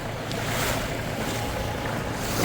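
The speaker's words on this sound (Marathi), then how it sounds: "करंजा जेटीवरून आपली बोट तर निघालेली आहे" A fishing boat pulls away from Karanja jetty out to sea, with steady broadband wash of water and wind rushing past the microphone throughout, and a low engine hum beneath.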